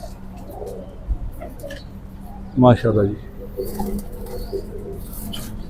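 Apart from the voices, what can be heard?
Kasuri pigeons cooing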